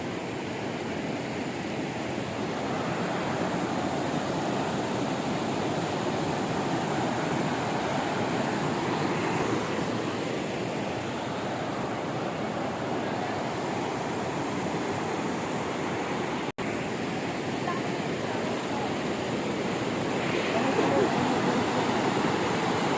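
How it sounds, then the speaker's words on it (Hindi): A fast-flowing river rushing beneath a bridge near Chamunda Devi Temple in Himachal, a dense, steady roar of water that stays loud and unbroken, with one sharp click partway through. "ब्रिज के नीचे से नदी बहती है"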